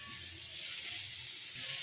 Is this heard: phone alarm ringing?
no